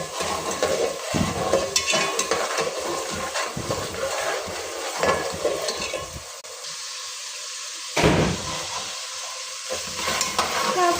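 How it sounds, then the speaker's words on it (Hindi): Onions frying and being stirred in a pan while making chicken biryani, a steady close sizzle with scraping stir strokes throughout and a brief sharper clatter near the end. "अब हम इसको थोड़ा फ्राई"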